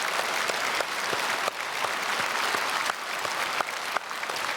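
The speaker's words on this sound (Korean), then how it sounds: "우리 다 함께 박수로 축복하겠습니다" A congregation applauds at a Korean Sunday church service, producing dense, steady clapping that fills the hall without a break and pulses slightly in intensity.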